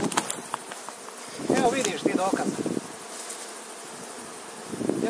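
Honeybees at an apiary on Vrijesko, Glamočko polje, buzzing in a steady insect hum close by while someone speaks over them.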